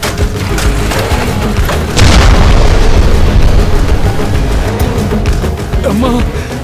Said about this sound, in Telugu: ఎవడో బాంబు వేసాడు.